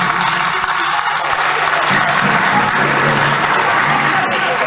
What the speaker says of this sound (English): I can see that the women are clapping more than the men.